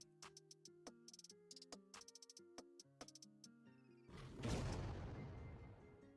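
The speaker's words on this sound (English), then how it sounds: "let's search up explosion" An explosion sound effect previewed in Roblox Studio, a broad booming blast with a rumbling tail, which follows a stretch of quick tapping and clicking.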